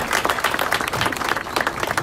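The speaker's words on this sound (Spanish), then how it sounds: "Le pido un fuerte aplauso aquí para el diputado." Audience applause at a municipal event in Matamoros, Coahuila, greeting a deputy: dense, steady clapping from a nearby crowd lasting about two seconds, with no talk over it.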